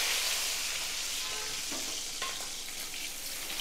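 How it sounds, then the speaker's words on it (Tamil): Small onions (shallots) sautéing in oil in a pan for jackfruit curry: a steady, close frying hiss with a few faint stirring clinks, and no voices. "வெங்காயம் கொஞ்சம் வதங்கட்டும்."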